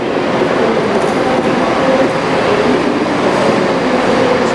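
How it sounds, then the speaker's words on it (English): Class 158-style unit 58845 rolling in at a station on the Wakefield Kirkgate to Bradford Interchange line, a steady loud rumble of wheels and motor with faint clatter, continuous and close, no voices. "Train is coming in."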